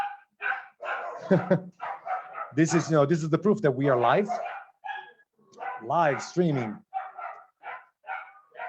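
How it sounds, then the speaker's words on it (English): Several dogs bark out on a street, heard faintly through a window while someone talks close by. The scattered yaps and barks stay mostly buried under his voice. "There's a dog barking in the meanwhile in the street."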